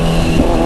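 A loud engine rumbles steadily close by, a Kawasaki Z1000 motorcycle with a throaty aftermarket exhaust revving, brief and dense with low growl.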